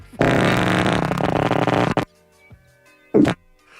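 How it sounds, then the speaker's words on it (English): Modulated fart sound effect played on a sports radio show: a long buzzing, fluttering blast of about two seconds, followed by a short second burst after a pause. "now modulated the fart"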